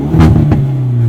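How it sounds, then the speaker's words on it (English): A 2019 Hyundai Veloster N Performance Pack exhaust in N mode gives a short loud bark with a pop or two, then settles into a low idle burble, close and alone. "It's loud. It does the pops and bangs, and they're kind of natural sounding pops and bangs too."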